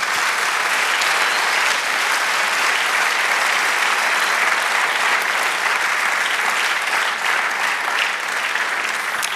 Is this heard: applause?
yes